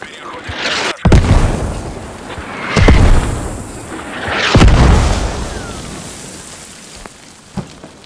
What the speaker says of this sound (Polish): Ale ta artyleria strzela jakby głośno.